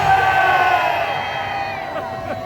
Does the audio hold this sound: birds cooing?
no